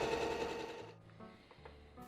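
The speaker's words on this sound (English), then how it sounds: "I stop sewing about 1/2 inch in and put my needle into the fabric" A sewing machine stitches pajama pants, a sustained hum at the start that drops away after about a second, leaving a quieter low mechanical whir.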